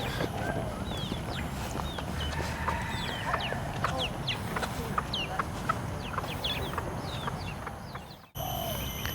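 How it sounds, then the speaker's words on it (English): Chickens wander near blooming Southeast Asian tiger orchids, clucking and chirping in quick, scattered calls over a constant outdoor hiss, with a brief drop just before the end. "The chicken are also here to see the Tiger Orchids."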